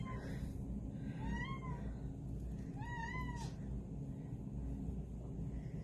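A small 5.5-pound cat in a shelter room meows twice in clear rising-falling calls, moderately near, over a low steady room rumble, with no talking.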